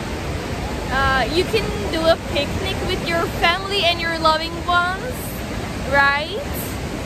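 Tarsus Waterfall in Turkey roars as a steady broadband wash of falling water, loud and continuous, with people talking over it throughout.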